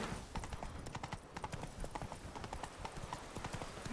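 Roach the horse gallops in The Witcher 3, with fast, steady clip-clop hoofbeats that run continuously and close up over game ambience.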